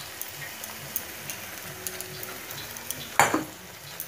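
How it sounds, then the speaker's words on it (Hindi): Tomato paste fries in hot oil for palak paneer, making a quiet, steady sizzle with faint ticks. A sharp clatter of a utensil in the pan comes near the end. "अब इसका टोमेटो का जो पेस्ट है मैं इसमें डाल लूंगी"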